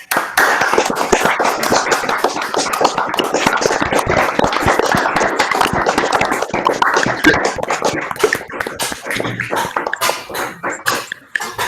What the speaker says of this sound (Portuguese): aplaudir o palestrante